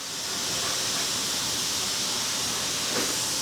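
An air compressor runs with a steady, loud, broadband hiss that holds evenly throughout, with no voices.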